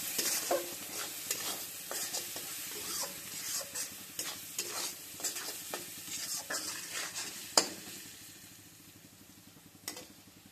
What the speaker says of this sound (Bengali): আগে পেঁয়াজটা ভাজা হোক ভালো করে